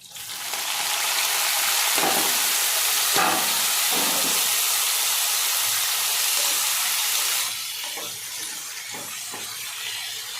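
Spring onions frying in a pan for a tomato and onion-leaf curry, giving a steady loud sizzling hiss with a few clatters of stirring, easing slightly near the end.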